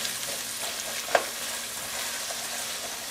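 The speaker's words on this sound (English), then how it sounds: "So toss them around a little bit in the olive oil." Vegetables tossed and frying in olive oil in a pot, a steady close sizzle with faint stirring scrapes and one brief clink, no talking.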